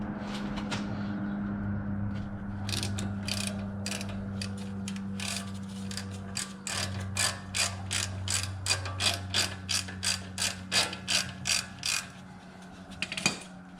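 Ratchet wrench loosening the top sway bar link bolt, likely 17 mm, on a Lexus GX470 front end: a long run of rapid, evenly spaced clicks up close, growing louder and more regular toward the end, with a steady low hum underneath.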